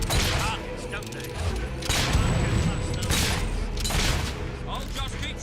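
Gunfire in the video game Fable III, a rattle of shots and heavy thuds in bursts through a busy battle mix, with voices talking over parts of it.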